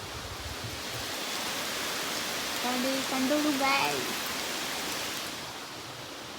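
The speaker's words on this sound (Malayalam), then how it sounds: "പുറത്ത് നല്ല മഴയാണ്," Heavy rain falls outside in the evening around seven o'clock, making a steady broadband hiss throughout. A voice speaks briefly in the middle.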